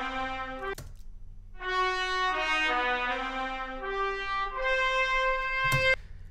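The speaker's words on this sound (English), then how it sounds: "We have a bit of movement in the trumpets as well, which sounds like this." Trumpets in The Polar Express orchestral score play a moving line of bright sustained notes that step between pitches, framed by a couple of sharp knocks near the start and end.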